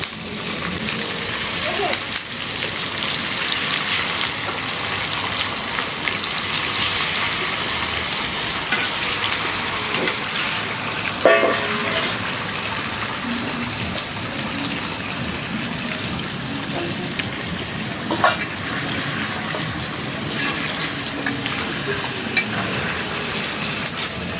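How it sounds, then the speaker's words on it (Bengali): Steady loud sizzling of meat frying in a pan, with occasional scraping clinks of a spoon stirring it throughout. "বাকি মাংসগুলো আমাদের ভাজা হয়ে গেল"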